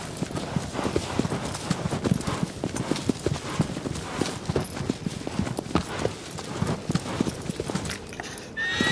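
Steady clip-clop of a horse's hooves in a PlayStation video game, a remastered title, with the large horse walking in a regular rhythm under a faint, continuous game background.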